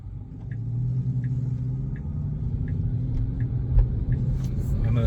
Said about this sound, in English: Car is creeping forward to match them.